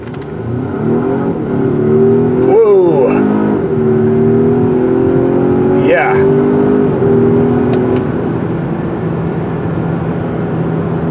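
A 2024 Volvo S90 Recharge plug-in hybrid sedan with 455 horsepower accelerates hard, a loud steady engine drone rising in pitch from inside the cabin, with brief exclamations from occupants over it.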